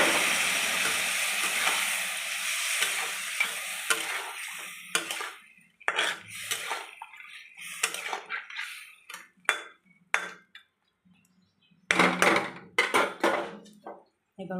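Fried sea fish going into a pan of spicy gravy: a steady sizzling hiss at first, then intermittent clinks and scrapes of a utensil against the pan, with no talking.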